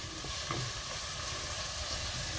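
Quartered button mushrooms fry in a pan with a steady close sizzle and hiss, with a few faint stirring clinks and no talk.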